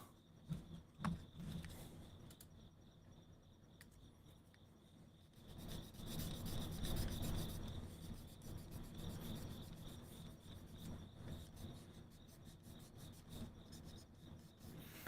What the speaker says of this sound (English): We just want to kind of get a gentle sand.